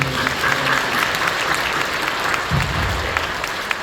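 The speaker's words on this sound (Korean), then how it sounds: "박수 좀 주세요" Sustained applause from a church congregation at a Christmas service fills the room, steady and fairly loud, with faint voices underneath.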